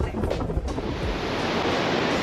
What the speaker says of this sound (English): 12-foot waves, mad.